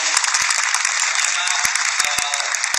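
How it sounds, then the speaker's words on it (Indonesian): Sustained audience applause at a Muharram religious gathering, a steady dense clatter of many hands filling the whole stretch, with occasional sharper individual claps standing out. "Oke, tepuk tangan sekali lagi."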